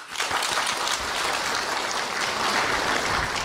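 An audience in the Great Hall applauds to greet the General Secretary and Political Bureau Standing Committee members, a sustained, even roar of many hands clapping, moderately distant.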